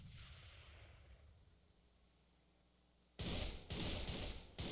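A grenade goes off in the online shooter game AVA: after a few quiet seconds, loud, harsh blasts erupt in quick succession and crackle on to the end.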